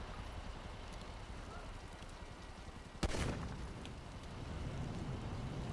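A single sharp gunshot in GTA 5 cracks out midway through a bed of steady noisy rumble, followed by a brief burst of crackling debris.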